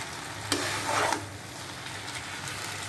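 Egg chowmein being stirred and tossed in a hot pan, a steady soft sizzle broken by a couple of brief scraping, mixing bursts near the start.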